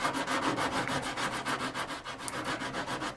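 A sanding stick rubs steadily over a small wooden model ship part, a close, even rasping stroke repeated in quick rhythm with no voices.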